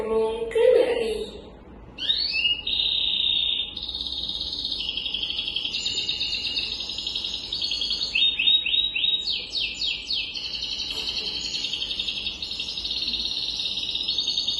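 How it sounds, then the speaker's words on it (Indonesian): A canary sings in bright, rapid trills and warbling runs, high and continuous for several seconds, with a brief low thump near the start. "Kalau yang ini suara burung kanari."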